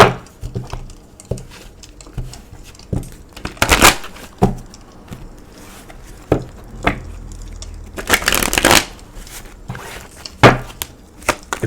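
Tarot cards being shuffled and handled, irregular crisp riffling bursts and soft slaps, close and fairly loud, with two longer rippling riffles and scattered taps between.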